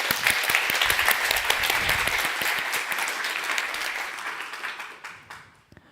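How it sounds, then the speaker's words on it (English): Loud, dense applause from a conference audience on food sovereignty, many hands clapping close and full before thinning out and fading away in the final second. "another round of applause for Laura Slot and her team"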